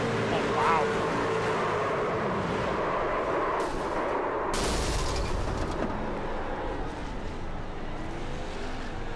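A race truck's engine blows in a racing video game at Talladega, a loud broadband burst rising out of a constant roar of engines and crowd noise, with a commentator talking throughout.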